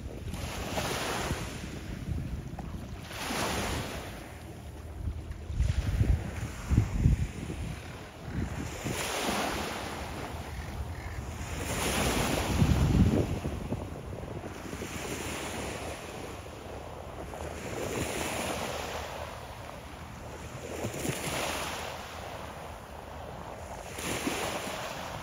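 Surf washes in and out on Steveston Beach in Richmond, BC, on a foggy, smoky day, with steady wind buffeting the microphone and repeated swells of broad wave noise, and no voices.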